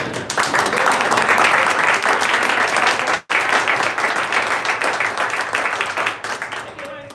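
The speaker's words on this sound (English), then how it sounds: "give a round of applause and a standing ovation." Sustained audience applause fills a youth robotics event in Chicago, dense and loud clapping from a crowd rising to an ovation, with a brief break midway before the clapping carries on and thins toward the end.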